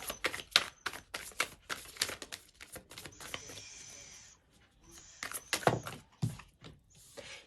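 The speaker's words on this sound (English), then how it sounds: "I'm going to shuffle one more time." Tarot cards are shuffled close up in bursts of crisp riffling and snapping flicks, with short pauses between handfuls and a few soft clicks.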